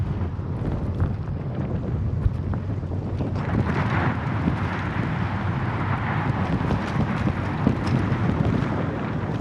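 Steady wind rushing across the microphone while bicycling a flat coastal road on the Pacific coast between Monterey and New Brighton; a constant, loud buffeting roar fills the whole stretch with no talk.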